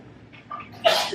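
A single sharp sneeze, preceded by a brief intake of breath, close and fairly loud.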